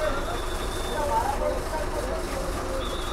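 An MSRTC state transport bus idles at the Kolhapur bus stand, giving a steady, close engine and station rumble that runs unbroken throughout, with faint bird coos and background voices mixed in.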